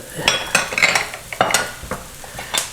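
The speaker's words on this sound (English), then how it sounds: "I'm going to add a little bit more butter right now" Butter added to a hot pan while making Cajun-style stuffed haddock, crackling sizzle mixed with repeated scraping and stirring strokes in irregular bursts, fairly close, with no talk.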